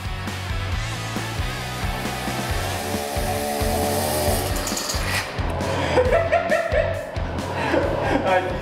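A chainsaw engine runs steadily and loudly, its pitch rising as it revs, while people talk and laugh over it.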